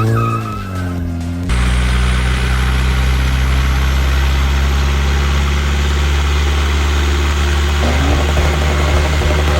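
A modified diesel car engine idles steadily and loudly close by, holding a deep, constant rumble after a brief sharper opening burst.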